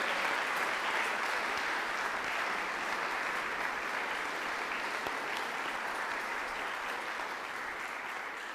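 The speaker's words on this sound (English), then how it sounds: "If we can give another round of applause for Dr. Dawn Sawyer." Sustained audience applause at a Martin Luther King Jr. Day of Service and Learning event, a steady wash of many hands clapping that continues evenly and tapers slightly at the very end.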